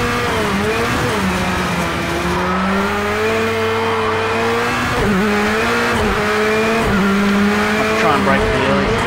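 Race car engine and tyres in Project Cars 2 under handbrake, a steady loud engine drone with shifting pitch and squealing tyres sliding through a corner, a voice talking over it.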